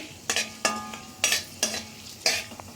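Cloves, cinnamon, black pepper and a torn bay leaf fry in hot oil as a spoon stirs them, giving soft steady sizzling broken by five or six distinct scraping strokes against the pan.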